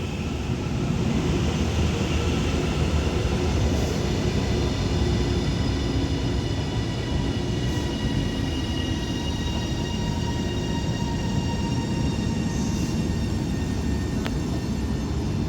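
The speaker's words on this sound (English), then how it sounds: "as this Transpennine Express Class 397 arrives into Bolton as passenger drop-off only" A Transpennine Express Class 397 electric train pulls into Bolton station, a steady loud rolling rumble and roar of wheels and motors sustained throughout, with faint high whining tones over the top.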